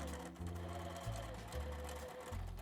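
A sewing machine stitches slowly through a vinyl zipper pouch and its thick zipper tab, running in short bursts of steady mechanical whirring with brief changes in speed, close and alone.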